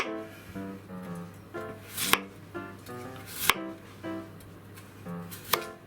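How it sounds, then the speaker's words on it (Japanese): Knife chopping potatoes into thick chunks on a cutting board, a steady run of close, crisp cuts with a few sharper thuds where the blade hits the board. "じゃがいもの食感も味わえるかなぐらいの大きさにカットします"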